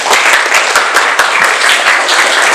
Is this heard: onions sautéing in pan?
no